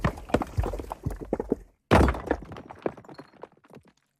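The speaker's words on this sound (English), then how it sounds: "Then I've got some rocks crumbling." Rocks crumble in a rapid series of heavy knocks and thuds, with a loud impact midway followed by smaller scattering fragments that fade out.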